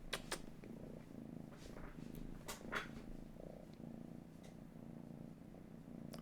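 Close, continuous purring from Zélia the cat, a low soft rumble running throughout, broken by a few light clicks and rustles nearby.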